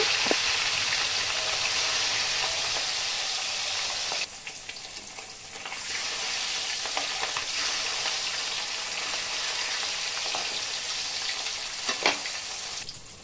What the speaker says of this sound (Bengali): এখন এখানে একটা কড়াইতে সরষের তেল ভালো করে গরম করে মাছগুলিকে ভেজে নেব।